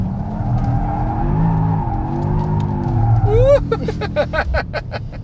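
Mercedes-AMG GT 63 S E Performance in a four-wheel slide, a steady engine drone with tire noise for several seconds, then a sharp rising squeal and a series of rhythmic chattering bursts near the end, all loud and close.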